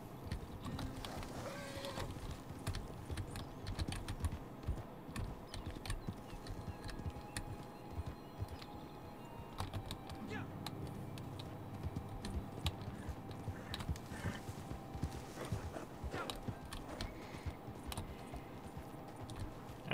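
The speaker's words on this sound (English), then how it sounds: "I am playing on keyboard and mouse for this." Computer keyboard keys tapped steadily while Red Dead Redemption 2 plays on PC with keyboard and mouse, game horse hooves and ambient sound mixed in at similar loudness throughout.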